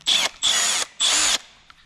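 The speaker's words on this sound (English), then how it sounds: "Got a 3/8 angle impact wrench today." A Milwaukee 3/8-inch angle impact wrench runs in three close, loud bursts of roughly a third of a second each, with short pauses between, and no talking.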